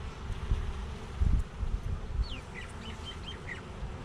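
Honeybees buzz steadily at the hive, a close, continuous hum with a few louder thumps and scrapes as the frames are handled.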